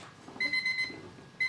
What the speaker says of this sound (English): Arthur's alarm clock